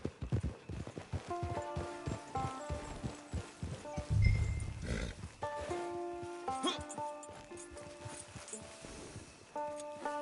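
Horse hooves clip-clop in a PS4 video game, a steady walking rhythm of close, distinct hoof hits over game music, with someone talking over it.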